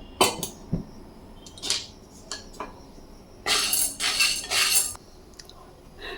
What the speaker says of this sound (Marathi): आता इथं कढई ठेवली आहे सांडगे आपण कढईमध्ये घालूया